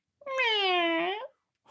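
A single drawn-out cat meow, clear and close, rising then gently falling in pitch for about a second in an otherwise quiet room.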